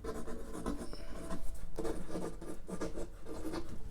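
A pencil eraser rubs back and forth over watercolour paper, close and steady scratchy strokes repeating without pause and with no talk.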